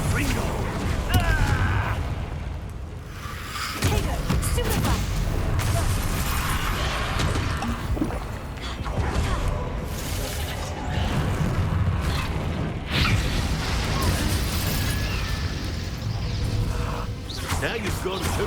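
Confringo spell explosions in a video game produce dense, continuous booms and crashing blasts layered with mechanical rumble, loud and sustained over a shouting voice.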